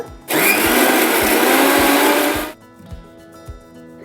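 A mixer grinder blending patharchatta leaves with water: a loud, close motor whir bursts on, runs steadily for about two seconds, then cuts off, leaving faint rhythmic knocks.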